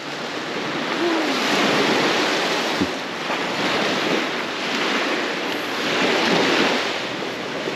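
Baltic Sea waves wash onto a beach in a steady, loud roar of surf with wind rushing across the microphone, swelling in broad surges with no voices.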